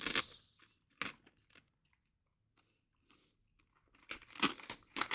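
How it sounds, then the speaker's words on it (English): Close crunching and chewing of a puffed corn snack dusted with vegetable stock powder: a few crisp bites early on, quiet gaps, then a louder burst of crunchy chewing near the end, with no talk. "it's like a puffed corn snack with vegetable stock powder on it"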